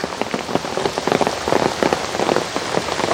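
Rain falls steadily on a garden with dahlias and plant supports, a dense close patter of drops on leaves and surfaces, continuous and fairly loud with no voices.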